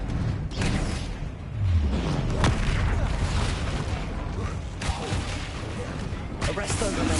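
A Confringo fire-blast spell in Hogwarts Legacy bursts into a dense, continuous wash of booming blasts and whooshing impacts, loud and unbroken throughout.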